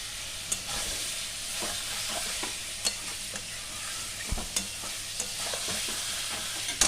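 Fried fish and pointed gourd being stirred in a pan for a prawn and pointed gourd dish, a steady close sizzle broken by scattered clicks and scrapes of the spatula, with no voices.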